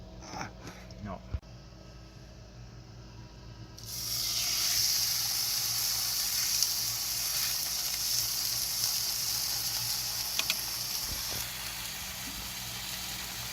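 Philly steak meat, Montreal-style seasoned, sizzles in a hot pan at a camper stove, a steady close frying hiss that starts abruptly and continues without letting up, with a few faint clinks alongside.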